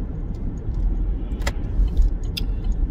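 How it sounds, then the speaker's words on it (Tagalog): A car moving along a road, giving a steady low rumble of engine and tyre noise close by, with faint clicks and a brief rattle over the continuous drone. "Yan ang sasakyan."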